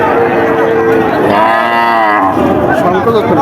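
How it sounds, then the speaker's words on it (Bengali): A crossbred cow lows loudly and close at a livestock market on a rainy, muddy day, one long drawn-out moo rising and falling over a background of crowd chatter. "শঙ্কর জাতের গরু কত হলে বিক্রি হবে"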